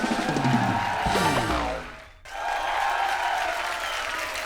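Audience applause on a Hindi television comedy stage show for a guest winner, a dense burst of clapping over music that drops away briefly, then a second wave of steady clapping resumes.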